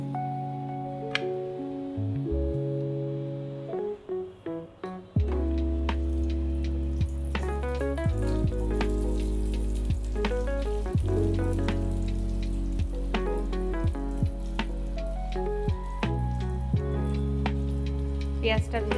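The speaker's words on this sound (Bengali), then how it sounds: "একে একে ফোড়নগুলো দিয়ে দেবো। শুকনো লঙ্কা, গোটা গরম মশলা, তেজপাতা," Whole spices, dried chillies and bay leaves dropped into hot oil, setting off a steady crackling sizzle with many sharp pops over a continuous hiss, loud and close throughout.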